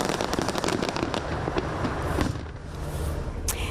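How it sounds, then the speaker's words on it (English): Fireworks burst in dense, rapid crackling volleys at the Grand Egyptian Museum's opening ceremony, loud and continuous, thinning briefly before a final sharp pop. "It all kicked off with an elaborate fireworks and drone show."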